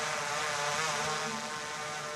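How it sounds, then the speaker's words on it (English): Camera drone buzzing steadily overhead during a men's cross-country ski relay race in Seefeld, a loud continuous propeller whine filling the whole moment without talk. "apologies for the noise of the drone"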